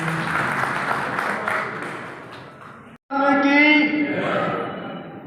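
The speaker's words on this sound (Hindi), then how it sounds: "कृपया तालियों से स्वागत करें।" An audience claps at an event as honorees are welcomed, with moderate applause fading out, a brief gap, then a renewed burst of clapping mixed with voices.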